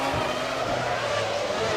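Formula 1 cars, a McLaren chasing a Jordan at the 2000 Monaco Grand Prix, howl past with a continuous high engine whine and broadband roar.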